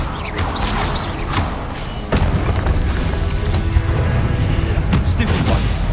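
Confringo and Expelliarmus spell blasts in Hogwarts Legacy, several booming impacts and thuds over a rumbling, busy combat background, with a louder burst partway through.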